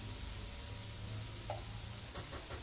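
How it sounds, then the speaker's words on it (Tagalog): Palabok sauce sautéing in a pan gives a steady, low sizzling hiss with faint stirring scrapes, quiet and continuous with no speech. "Isahin lang po, halu-haluin."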